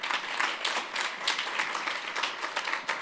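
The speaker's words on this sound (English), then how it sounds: "Everybody's clapping." Sustained audience applause fills a conference hall after a talk, dense steady clapping from many hands throughout.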